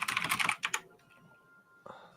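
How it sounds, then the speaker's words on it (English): Quick bursts of typing on a computer keyboard, a busy flurry of key clacks followed by a pause and a few more taps, close and alone. "You all can talk while I'm typing."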